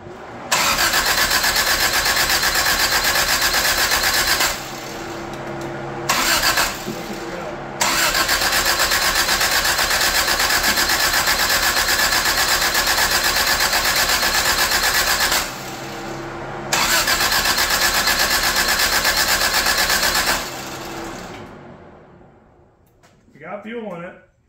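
A 1985 Toyota Tercel engine cranks and runs loudly and steadily, dropping out twice in short gaps before catching again, then fading out near the end as a voice speaks briefly.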